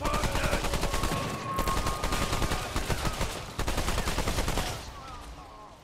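Sustained assault rifle fire in Remnant 2, a steady rapid rattle of shots running nearly six seconds with brief breaks, loud and close, thinning out near the end.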